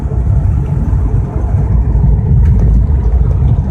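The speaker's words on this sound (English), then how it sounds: "Purrs along really nicely." A classic Rover P5B car driving, its engine giving a loud, steady low drone with no talk over it.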